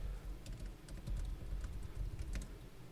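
Typing on a computer keyboard on a Linux setup, a soft patter of quick key clicks close by with no voice.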